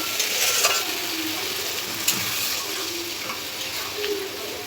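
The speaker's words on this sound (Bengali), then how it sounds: "এবার আমি জল দিয়ে দেবো, যাতে ঝোলটাও ফুটতে ভালো করে আর মাছ আলু ভালোভাবে সিদ্ধও হবে" Water pours into a pan of fried spice masala for a fish curry with potatoes, giving a steady broadband hiss and sizzle with light stirring clicks throughout, close and continuous, no voices.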